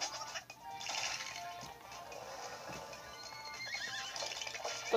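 A horse in the video game Miitopia gives a bright, shrill neigh lasting a few seconds, mixed with game sound effects. There is no talking.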